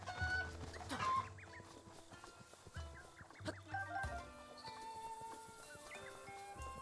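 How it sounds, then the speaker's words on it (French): A chicken clucking in The Legend of Zelda: Breath of the Wild, several short clucks scattered over a soft game soundscape with background music tones, fairly faint and close. "Toujours cette poule"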